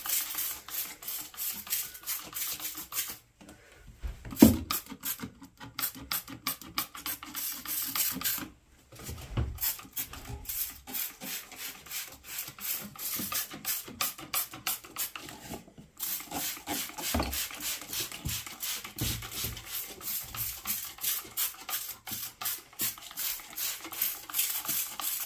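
Hands rub insecticidal soap onto jade plant leaves, giving close, uneven scraping and rubbing strokes with brief pauses and a few louder knocks.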